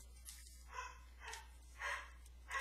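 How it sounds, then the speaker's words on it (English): A pet dog indoors barks in several short, separated yips at a steady pace, faint and distant in an otherwise quiet room. "I apologize if you can hear my dog in the background."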